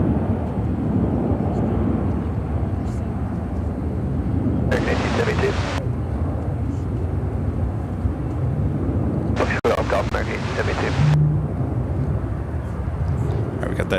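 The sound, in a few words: Boeing 787 Dreamliner rolling down runway 28 right at O'Hare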